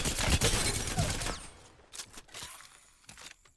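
Rapid burst of charged-weapon gunfire in Apex Legends, loud and dense at first, then tapering into scattered softer shots and clicks.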